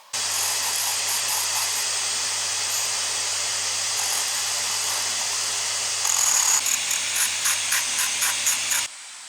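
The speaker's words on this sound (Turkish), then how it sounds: "Hızlıca eve bir süpürge açacağım." A steady, loud whooshing hiss of a vacuum cleaner runs throughout, with a brief shift in pitch and rhythmic bumps near the end before it cuts off.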